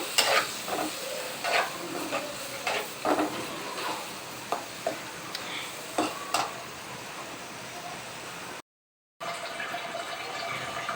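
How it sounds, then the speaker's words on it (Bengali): Dried fish (shutki) stir-fried in a pan, a soft continuous sizzle broken by repeated scraping and tapping strokes of a utensil, fairly close. "এখন শুটকি মাছগুলো ভালো করে কষিয়ে ফেলছে"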